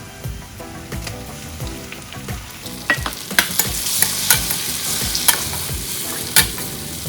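Onion, garlic and tomato sauté in hot oil for a garlic kuzhambu, giving a steady close sizzle with repeated sharp spoon scrapes and clinks against the pan, growing busier midway through; no one speaks.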